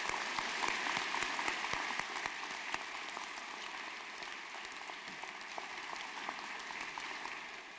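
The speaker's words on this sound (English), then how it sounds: "we should give them a round of applause as well" Sustained applause from a seated audience at a university mathematics and statistics convocation ceremony, a steady, even wash of many hands clapping for the whole stretch, moderately loud and without talk.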